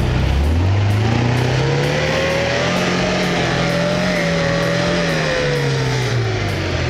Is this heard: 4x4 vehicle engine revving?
yes